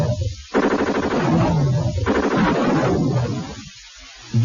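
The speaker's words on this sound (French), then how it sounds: "l'action est surtout ponctuée de vos tirs de mitrailleuse et du cri des mourants" Rapid machine-gun fire from the Amiga action game Orc, arriving as three long, dense, loud bursts separated by brief pauses, with no voices.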